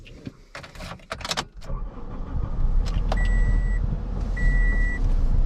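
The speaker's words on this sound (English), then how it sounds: "When it's a cold start like this, it's a little bit louder than usual." Toyota Corolla XRS with an Injen cold air intake starting and idling cold, a steady low engine rumble rising after a few clicks and thumps, slightly louder than a normal idle, with faint whine tones on top.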